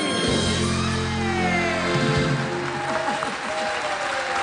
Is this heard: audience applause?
yes